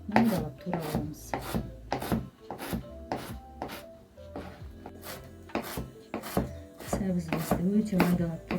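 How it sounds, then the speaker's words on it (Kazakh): A knife chops carrots finely for manti filling, giving close, crisp knocks against a wooden board in an uneven rhythm, with some scraping between strikes and brief voice sounds underneath. "Сәбізімізді өте майдалап турап аламыз."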